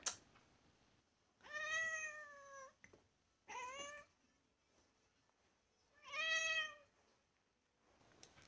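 A pet cat meows three times in separate drawn-out calls, close and clear, with quiet pauses between them and no talk.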